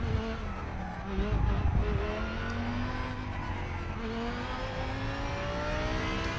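A racing car engine drones steadily in a driving simulator game, played on a wheel and pedals. The engine note rises and shifts without stopping, with faint tyre noise and no talk.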